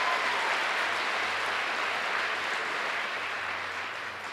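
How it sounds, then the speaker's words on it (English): A high school graduation crowd claps steadily for a student who gave a toast to parents and teachers, a broad sustained wash of applause that tapers slightly toward the end. "Yes, give them a round of applause."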